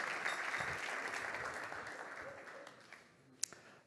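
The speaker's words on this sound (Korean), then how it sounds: "박수 소리는" An audience at an entrepreneurship concert claps in a broad, steady wash of applause that slowly fades out, ending with one or two sharp isolated claps.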